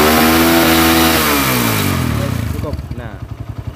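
Motorcycle engine revved hard during a charging system check, starting loud and high, then winding down into a slower, rhythmic chugging idle close by.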